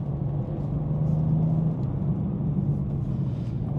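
A BMW M2 (G87) sports car engine hums with a low, steady rumble, as if heard from inside while driving at an even pace, with no voices.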